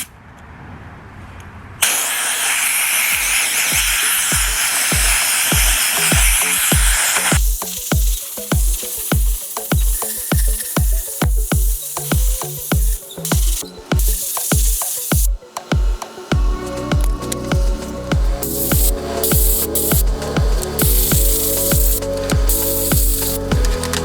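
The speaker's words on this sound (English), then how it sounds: "we'll take it outside, and we'll go ahead and start sandblasting." Sandblasting a vintage kerosene pump: a loud continuous blasting hiss broken into rapid bursts, with compressor-like pulses underneath and a few pauses.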